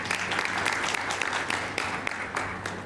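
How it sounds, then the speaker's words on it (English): An audience at a community media conference applauds a disability panel, a sustained burst of dense clapping from a crowd filling the room, even in volume from start to finish. "I'd like to hear some clapping for this wonderful panel and their wealth of information"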